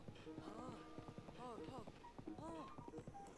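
Hooves clip-clopping from a giant horse in the video game Zelda Breath of the Wild, a few rhythmic clusters of hoof beats, fairly quiet, with game sounds around them.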